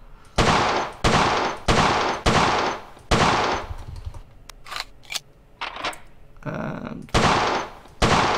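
Colt 1911 pistol shots at a shooting range in the video game World of Guns: sharp, loud single reports spaced roughly a second apart, with a brief gap of faint clicks midway before the shots resume.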